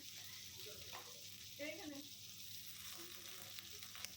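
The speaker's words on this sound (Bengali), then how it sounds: "এই তেলে এখন আমি বেগুনগুলো ভেজে নেব" Eggplant pieces frying lightly in hot oil, a steady close sizzle running throughout with a few faint stirring sounds and a brief quiet voice in the background.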